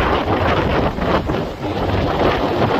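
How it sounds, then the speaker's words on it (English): Steady wind roaring and buffeting the microphone on Alaska's Kenai Peninsula, a continuous rushing noise with slight dips, no voices. "It's pretty windy here."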